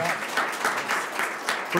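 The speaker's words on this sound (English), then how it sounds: "please give them a round of applause and thank them" Steady applause from an audience fills the whole stretch, dense clapping with a few louder swells.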